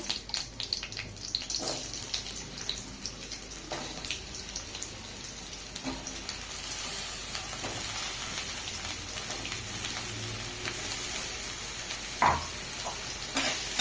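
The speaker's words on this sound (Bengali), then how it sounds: "আলু ভেজে নেব।" Potato pieces frying in hot oil in a wok, a steady broad sizzle running throughout, louder in the second half, with a few stirring clinks and scrapes on top.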